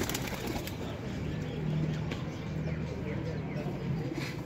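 Caged Teddy pigeons coo softly in low, murmuring bursts while someone talks nearby, with occasional light wing flutters in the background.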